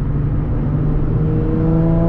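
Nissan 350Z exhaust heard from inside the cabin while driving, a steady low droning rumble with a rising engine note toward the end, windows up and no talking.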